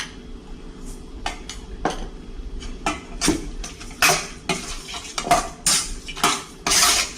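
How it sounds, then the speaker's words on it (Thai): Small chicken wings are mixed in a marinade of soy sauce and sugar in a bowl. A spoon clinks and scrapes against the bowl in uneven, rhythmic bursts, close and fairly loud, with no talking. "นี่คลุกให้เข้ากันนะคะ"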